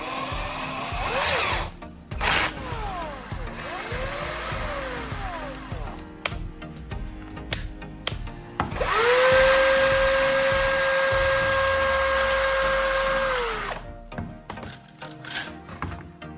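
A power drill spinning a mixing tool whirs at steady speed for several seconds, rising then holding a constant pitch before winding down, with shorter bursts of spinning and rattling around it.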